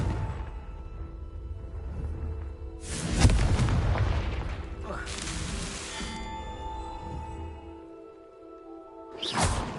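Confringo fire spell explosions in the video game Hogwarts Legacy, several heavy booming bursts with rumbling decay spaced over the stretch, the last one arriving near the end.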